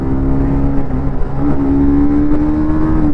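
A 2025 TVS Apache RR310 motorcycle with its 300 cc engine accelerates hard through the gears, producing a loud, continuous, steady engine drone close to the microphone.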